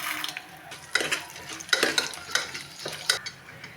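Lentils fry in hot oil tempered with cumin and garlic while a spoon scrapes and stirs the pan in several quick strokes, close by with no talking.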